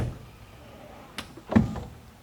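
A McLaren supercar door fitted with a soft-close latch pulls shut: a light tap, then a short, muffled thunk with a faint mechanical whir as the latch draws it closed. Nearby and fairly quiet, with no talking.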